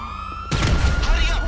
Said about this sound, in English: those sirens are everywhere